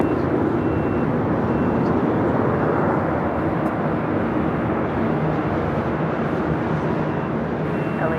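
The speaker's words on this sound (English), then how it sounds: "China Eastern Airlines flight 583 coming from Shanghai, 777-300 ER. Next arrival." Boeing 777-300ER airliner arriving at Los Angeles airport, a steady broadband jet engine roar that stays loud and continuous throughout, with no distinct voices.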